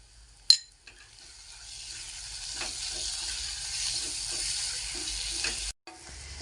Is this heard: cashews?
yes